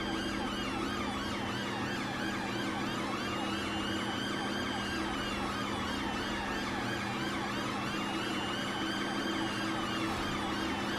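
A continuous wailing ambulance siren in the video game GTA V, rising and falling steadily, fairly loud and unbroken, with no voices.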